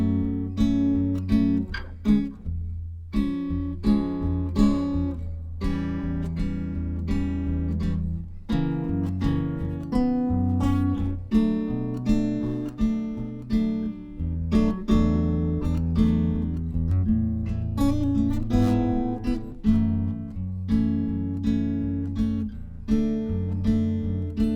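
Fingerpicked acoustic guitar plays the minor section of a song, with a steady bass line under plucked melody notes, close and continuous with no voices throughout.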